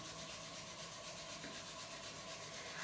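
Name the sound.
hands rubbing together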